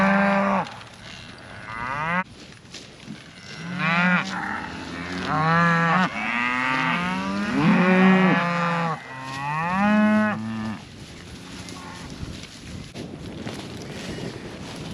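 Several cows moo repeatedly in loud, drawn-out calls that overlap and follow one another closely, with wind buffeting the microphone outdoors on a farm.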